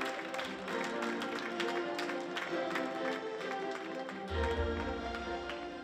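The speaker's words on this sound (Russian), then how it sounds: "Аплодисменты" An audience applauds at a Person of the Year 2021 awards ceremony, giving a fairly quiet, distant spatter of clapping that rises and falls over a low tonal hum, with a little talk in places.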